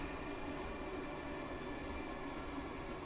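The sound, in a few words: train rheostatic braking in Train Sim World 2 video game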